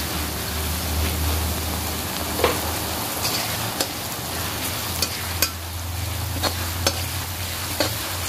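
Green chillies sautéing in a pan, a continuous close sizzle with occasional crisp spatula taps and scrapes at irregular intervals and a low hum underneath, with no speech.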